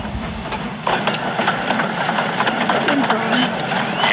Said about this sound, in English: Henry had to work very hard hauling the heavy train